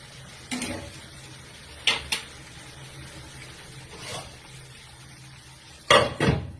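A spoon scrapes and clatters against a pan while spiced masala and potatoes are stirred and fried for a vegetarian aloo dum, with four or five sharp metallic knocks spread over a soft background sizzle.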